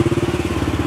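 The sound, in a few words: passing motor engine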